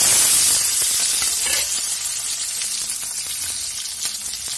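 Onions dropped into hot oil for Singapuri chow mein, a loud hiss that eases into a steady close sizzle with faint stirring, no talking over it.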